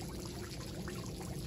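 Water pouring steadily from a homemade pond filter shower, a continuous close splashing rush with no pauses and no voices.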